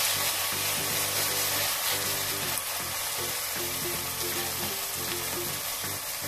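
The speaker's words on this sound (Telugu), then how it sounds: "1 మినిట్ వేయించుకోవాలి." Green peas and other ingredients frying in a pan for coconut rice, a steady close sizzle running throughout with scraping and stirring knocks and a low hum underneath.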